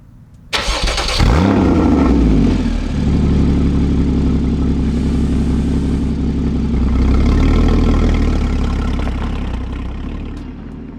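Porsche 981 Boxster GTS flat-six engine firing up sharply, then droning steadily and loudly as the car pulls away and drives along the road, with engine pitch rising and falling through the gears.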